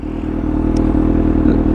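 A motorcycle engine idling and revving through its exhaust, a loud, close, steady drone with a slight rise in pitch and a rattling edge.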